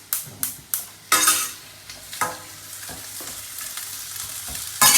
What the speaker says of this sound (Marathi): आता त्याच ह्याच्यामध्ये तेलामध्ये कांदा आणि टोमॅटो छान परतून घ्यायचा आहे